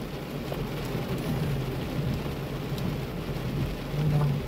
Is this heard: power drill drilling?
no